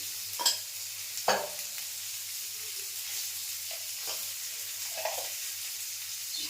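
Green chillies and turmeric stir-fry in a pan with a soft, even sizzle, broken by a few clicks of a spoon against the metal.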